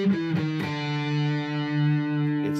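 An Ibanez RG 652 AHM NGB electric guitar played through distortion sustains a thick, buzzing chord that rings out steadily after a few quick picked notes, with no talking.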